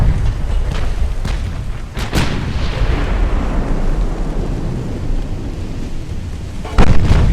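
Heavy warship guns firing in Ultimate Admiral: Dreadnoughts, several deep booming blasts at irregular intervals with long rumbling decays, loud and close, with no talk over them.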